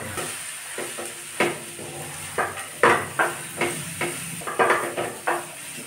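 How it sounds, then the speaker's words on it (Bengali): A spoon stirs veg club sandwich filling with crushed fried peanuts in a pan on the stove, giving repeated scraping strokes over a soft continuous sizzle, close and fairly quiet. "আর এই বাদামগুলো ভেজে রেখেছিলাম, একটুখানি গুঁড়িয়ে নিয়েছি, সেগুলো দিলাম। দিয়ে এটা আমি নেড়ে নেব।"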